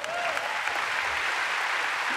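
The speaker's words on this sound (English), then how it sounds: "Everyone, give her a round of applause" An audience gives steady applause at a talk on giving voice to underrepresented communities, a continuous wash of many hands clapping, moderately loud and even from start to finish.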